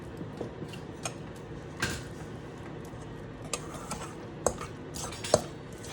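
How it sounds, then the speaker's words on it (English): A fork mixing and dredging sweet potatoes in a bowl, soft scraping stirs punctuated by scattered sharp clinks of metal on the bowl, close and fairly quiet. "So right now I'm mixing with the fork"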